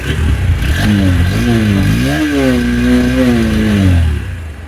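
A Honda NX 200 adventure motorcycle revs on a test ride, its engine note climbing and falling in several rising sweeps, loud and close, with no talking.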